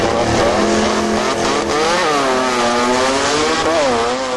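A Maztech RX3 race car makes a drag strip run, its engine screaming loud and close in a continuous high-revving drone with rising pitch sweeps as it shifts and accelerates.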